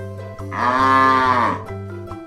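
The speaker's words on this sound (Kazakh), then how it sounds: "Сиыр мө дейді." A cow moos once in a long, drawn-out, loud call that swells and fades, heard alone and close up.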